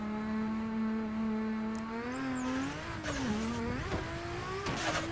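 Sim racing car drifting in a video game on a Simagic rig, a steady engine drone that rises and wavers through revs, with tire squeal sweeping in and out during the slide.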